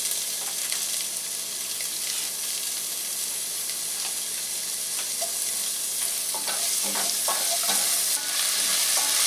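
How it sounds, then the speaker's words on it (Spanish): Onion frying in oil in a pan for a vegetable soup, a steady loud sizzle and hiss running throughout with occasional spatters and stirring scrapes, no voices. "Un poquito más de aceite y vamos a freír nuestra cebolla"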